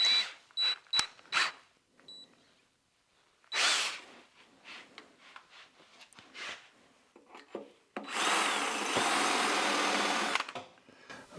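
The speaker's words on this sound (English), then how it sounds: "I'm drilling with a smaller drill" Metal being drilled with a smaller 3/8 inch power drill while fitting up welded work, heard as short bursts of whirring and grinding separated by pauses, then one sustained loud drilling run near the end.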